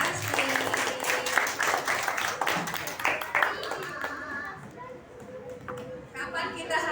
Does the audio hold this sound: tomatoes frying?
no